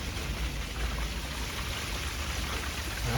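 Water leaking and trickling from a koi pond filter, a steady soft splashing and dribbling with no voices, fairly faint and continuous.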